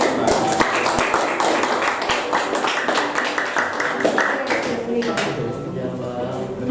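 Small group clapping at the close of a discussion session, uneven rhythmic claps from several people, close and fairly loud, with voices talking over them.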